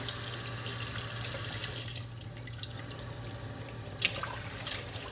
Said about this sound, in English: Run a little water in your bowl. Swirl them chickens around.